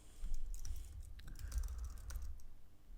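Keys clatter in quick, steady runs on a computer keyboard while footer text is typed, close and fairly quiet, with no voice over it.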